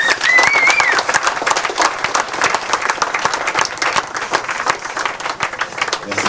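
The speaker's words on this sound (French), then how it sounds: "il faut vraiment les applaudir très fort" Loud crowd applause and clapping at the podium ceremony of a French radio-controlled 4x4 car championship round, sustained and dense, with voices and a brief whistle-like tone over it.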